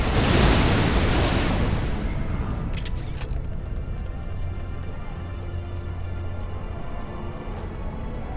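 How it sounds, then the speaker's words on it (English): Explosive charges detonating in the video game Star Trek Online, a loud broad boom that rolls off into a long rumbling decay with faint debris crackle, over steady game ambience. "Charges in place. Now, get to a safe distance and detonate them."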